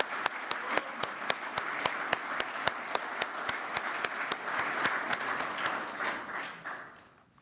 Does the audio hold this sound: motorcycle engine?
no